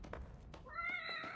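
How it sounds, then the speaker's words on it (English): Black cat meowing in The Evil Within video game, set in a sewer; a single faint drawn-out meow rises after soft thuds and low rumble. "what are you doing here, little kitty, in this freaking sewer?"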